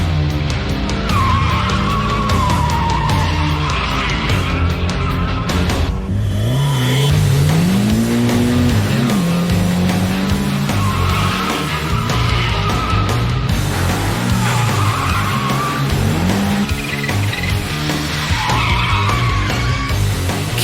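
A Nissan Onevia drift car slides at a drift event with a loud, sustained tire squeal over a roaring, revving engine that rises and falls in pitch, close and continuous throughout.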